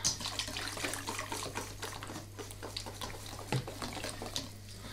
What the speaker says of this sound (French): Et je mélange avec un fouet de pâtissier.